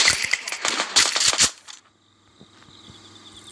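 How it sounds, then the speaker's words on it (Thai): A rapid burst of video game shotgun fire crackles loudly for about a second and a half, then cuts off, leaving a quiet electronic hum. "ยิงเลยลูกซองยิงเลย"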